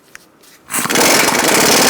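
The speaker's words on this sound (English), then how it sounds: "Using a 17mm socket, I'm going to take off the nut on my ball joint" On a 2002-2006 Honda CR-V, a power tool with a 17mm socket spins off a ball joint nut. A short quiet lead-in gives way to a loud, sustained buzzing whir close up.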